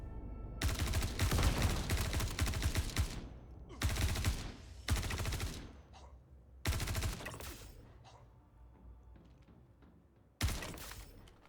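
Gunfire in the video game Star Citizen, loud bursts of automatic fire lasting one to two seconds each, separated by short pauses and decaying echoes, with a final single burst.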